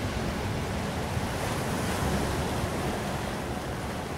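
Steady, dense roar of ocean surf breaking continuously at close range, with some wind buffeting the microphone and no voices.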